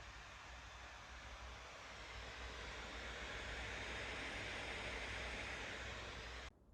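An old 15-inch MacBook Pro's cooling fans roar at full speed under a benchmark load while the laptop thermal throttles, a steady, loud, breathy whoosh that holds unbroken for several seconds before cutting off abruptly.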